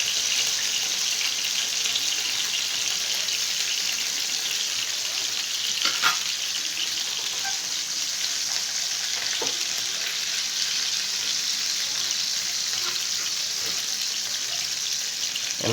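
Lemon masala fish fries in a pan with a loud, continuous hissing sizzle that stays dense and even throughout, broken only by a few faint clicks.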